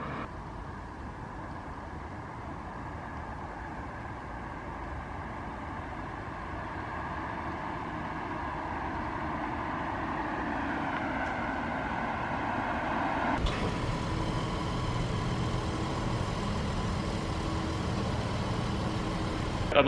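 A Toyota Camry fitted with an Auxbeam 12-inch LED light bar drives along a street at night, its engine a steady low hum and road rumble that grows slightly louder, with a sharper shift in tone partway through; no talking.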